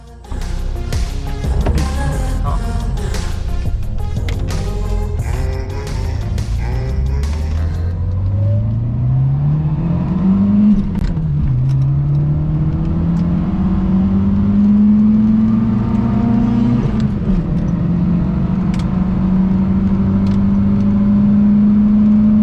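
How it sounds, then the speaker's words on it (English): A 1970s-style Fiat 850 Special accelerates hard from a standstill to 100 km/h, its small engine revving up through the gears with audible shift dips, a steady rising drone heard from inside the car. "the acceleration from 0 to 100 km per hour"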